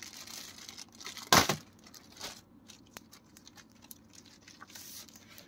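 Paper packaging torn open to reach an instruction booklet, with a sharp loud rip near the start followed by softer crinkling and rustling handling sounds close by.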